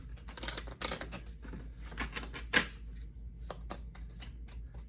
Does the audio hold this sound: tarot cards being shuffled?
yes